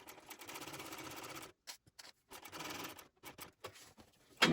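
A sewing machine top stitches a pocket onto a shoulder bag lining at a 1/8-inch seam allowance and stitch length 5, running in a steady burst, then a series of short stop-start runs, ending with another quick spurt.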